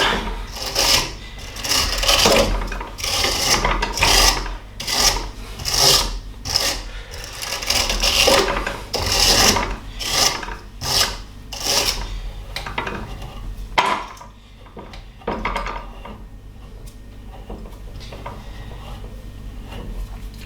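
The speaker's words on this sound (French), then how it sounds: "vous allez utiliser votre brosse métallique. Là, comme pour une brosse pour se brosser les cheveux, on enlève les épis. Là, ça va permettre de gratter" A wire brush scrubs back and forth over the threads of a plumbing pipe, giving a fast, rhythmic rasping of about a dozen strokes that is loud and close, then trails off into quieter handling noise.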